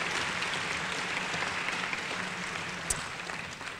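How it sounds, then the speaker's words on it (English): A room full of people applauding volunteers at a Parkinson's symposium, a steady wash of clapping that holds for several seconds at moderate level, with one sharp louder clap near the end. "can we have a round of applause for the amazing volunteers?"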